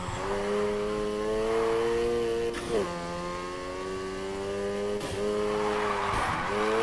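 A Honda Civic drifting in the Need for Speed racing game, with a steady, loud engine drone and long sustained tire squeals that break off and restart a few times, no talk over it.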